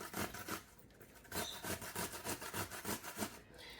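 Cucumber, skin on, is rubbed back and forth across a grater for tzatziki in quick rhythmic rasping strokes, close up and fairly quiet.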